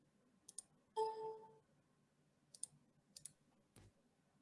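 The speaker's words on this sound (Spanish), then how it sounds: "Haga clic en la flechita." Several sharp, quiet mouse clicks come in ones and pairs over a few seconds, and a brief clatter sounds in the middle, all close and isolated in a hushed room.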